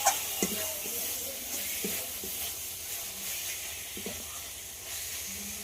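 Chicken cooked down with ground spices sizzles steadily in a pan, a continuous frying hiss broken by a few soft stirring scrapes, close and moderately quiet with no talking.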